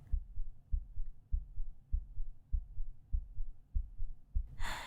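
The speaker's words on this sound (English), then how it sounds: "You can probably hear my heartbeat," A slow, steady heartbeat thumps about ten times, each beat a soft low double pulse, close and muffled, with no voice over it.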